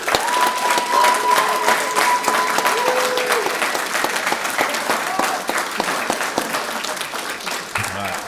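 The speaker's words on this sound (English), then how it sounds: "Let's give them one more round of applause." A crowd applauds the graduating class at a Brevard County Fire Rescue graduation ceremony, a dense, sustained wash of clapping that fades slightly toward the end, with faint tones and a voice briefly underneath.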